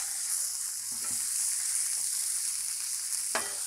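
Pierogies and onions fry in butter on a flat griddle, producing a bright, steady sizzle throughout with a few scraping taps from a spatula.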